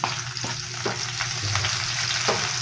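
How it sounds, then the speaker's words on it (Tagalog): Garlic sautéing in oil in a pan, with onion added next, for a home-style anchovy dish; a steady close sizzle runs throughout, broken by a few soft scrapes of a stirring spoon. "Tapos gisa tayo ng bawang."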